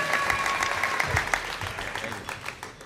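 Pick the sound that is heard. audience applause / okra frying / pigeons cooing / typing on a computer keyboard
audience applause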